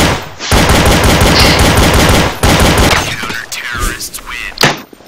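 Counter-Strike gunfire: loud, dense automatic bursts filling the first half, then scattered heavier shots and thuds as the firing breaks up, up close.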